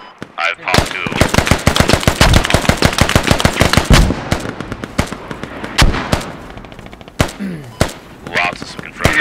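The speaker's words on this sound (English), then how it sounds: "He's getting shot on the west, Carmen." Dense automatic gunfire in the tactical shooter Squad, rapid bursts of loud cracks packed together, then scattered single shots and distant fire over a low battlefield din.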